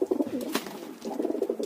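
Pigeons coo steadily at a pigeon market, several birds close by with low, rolling calls repeating throughout.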